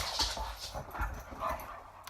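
Dogs at home whimpering and yipping eagerly as they want to play, a few close whines and soft bursts across a couple of seconds with no talk.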